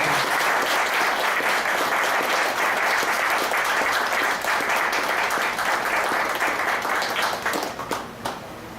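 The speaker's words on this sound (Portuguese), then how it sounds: "Pode aplaudir a Jesus." A church congregation at a Baptist home service claps together in sustained applause, a dense, even patter of many hands that holds steady and then fades out toward the end.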